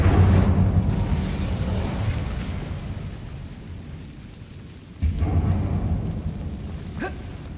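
A fire spell, Incendio, cast in the video game Hogwarts Legacy gives a sudden burst with a whooshing, rumbling rush at about five seconds, after a low steady rumble, with a faint crackle near the end.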